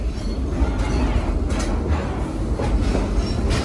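The Dollywood Express steam train rolls along steadily with a loud, continuous rumble and faint clickety-clack of wagons on the rails, no voices over it.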